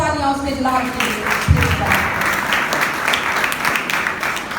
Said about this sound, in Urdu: آئیں زوردار تالیاں اس کے جلال کے لیے۔